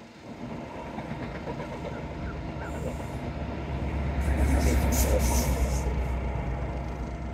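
A train rumbles past at Teignmouth harbour, a steady heavy roar that builds and swells with a high metallic squeal from the wheels, loud and continuous.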